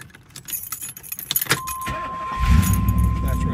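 Keys jangle close by, then an IROC car engine turns over and catches, settling into a rumbling run.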